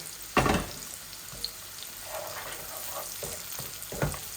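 Cooked rice and vegetables stir-frying in a pan for fried rice give a continuous close sizzle, broken by a few sharp spatula scrapes and clinks against the metal. No one speaks.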